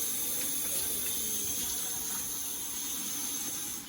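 A kitchen tap runs steadily as something is rinsed under it, a soft continuous rush of water close by that fades slightly at the end.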